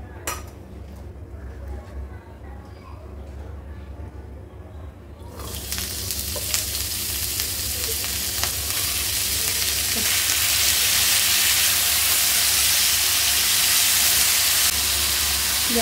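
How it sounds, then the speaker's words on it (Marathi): Potatoes hit a spoonful of hot oil in a pan and set off a loud, steady sizzle of frying that builds and holds. Quieter clinks of utensils come first. "सर्वात प्रथम मी ना बटाटा थोडासा वाफवून घेते। त्यासाठी मी थोडंसं 1 चमचा ते तेल घालते।"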